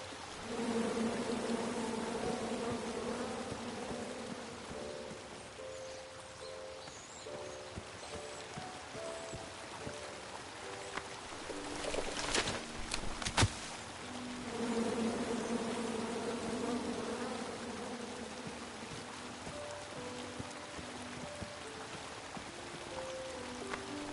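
Angry bees from a tree in the video game King's Quest keep up a steady, faint buzzing drone throughout, with a brief sharper burst partway through and no speech.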